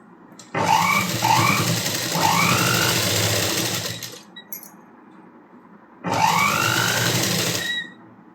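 A sewing machine stitches a blouse hook strip in two loud, close runs of steady whirring separated by a short pause, with faint clinks between them.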